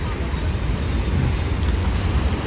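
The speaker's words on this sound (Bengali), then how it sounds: "আর এনারা নৌকাটা এক জায়গায় স্থির রাখার জন্য ডারগুলো টানছেন, কারণ নৌকাটা ফেলে দিচ্ছে।" A boat is held in place on fast-flowing, wavy river water near the Farakka bridge, with a constant loud rush of water and heavy wind buffeting the microphone.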